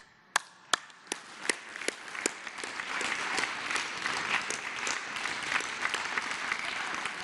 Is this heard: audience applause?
yes